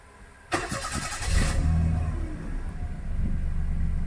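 Perodua Kancil car engine cranks with a brief whirring starter burst, then catches and settles into a steady low idle rumble, close and loud, with no talking.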